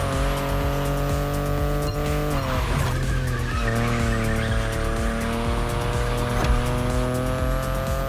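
A BMW i8 in the racing game The Crew Motorfest holds a loud, steady engine drone while its tires squeal and skid through a corner, with the engine note shifting midway and no talking.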